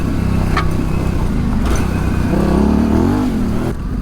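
A Yamaha Tenere 700 engine drones steadily while riding an off-road single track, loud and close with the pitch rising and falling as the throttle is worked.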